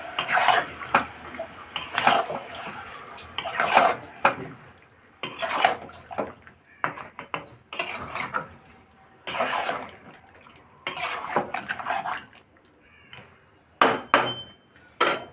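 Meat being stirred in a metal pot while cooking a spicy braise, with repeated scraping and clinking bursts of a utensil against the pot at an irregular rhythm, close and fairly loud, separated by short quiet gaps.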